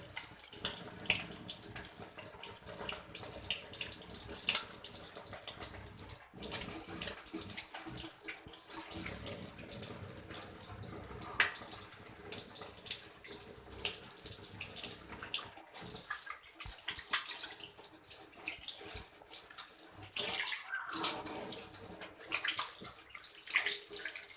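Hands are washed under a running tap at a sink before a physical examination, with a steady stream of water splashing and changing as the hands move through it, moderately quiet and without speech.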